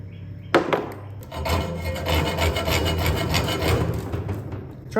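A file or deburring tool rasps steadily across freshly drilled holes in a metal bracket on a 1964 Datsun 320 truck build, a continuous close scraping that starts after a sharp knock and runs unbroken to the end.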